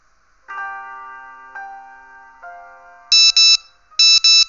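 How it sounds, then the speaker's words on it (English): A phone sounds a tonal alert chime, a few sustained electronic notes followed by two loud pairs of sharp bright beeps, close and clear with no talking. "Her phone buzzes with a message from the shelter she's considering."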